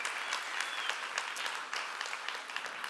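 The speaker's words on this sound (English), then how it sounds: "I want to give another round of applause for everyone who came up on stage" Audience applause fills a humanitarian innovation pitch event as presenters are honoured, a steady patter of many hands clapping at moderate distance, fairly quiet overall, with a few sharper claps standing out.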